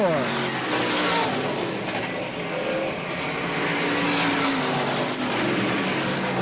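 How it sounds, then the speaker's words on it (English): Limited late model race cars roar around the dirt oval at Selinsgrove Speedway, with engines drone loud and continuous as they race past while an announcer talks over the noise. "right now the race is for the number 1 spot as Denny Nace and Dave Corter come off of tu"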